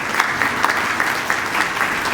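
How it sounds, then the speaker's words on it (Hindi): Church congregation applauding children who set out Bibles, a steady wash of clapping from a crowd indoors that holds at an even level throughout. "इनके लिए तालियां बजाएं"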